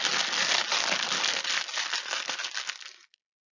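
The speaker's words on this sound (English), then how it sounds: "It's rustling crisp packets." Crisp packets rustling and crinkling up close, a dense crackly scrunching that runs continuously for about three seconds before stopping abruptly.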